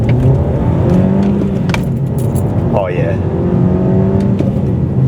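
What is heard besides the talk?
Skoda Octavia VRS manual accelerating and revving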